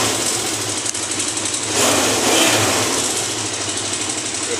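A 1984 Honda CB 400 motorcycle engine idles steadily just after starting, a close, loud, even mechanical chugging with a slight swell in the middle and a faint ticking rhythm, alone without speech.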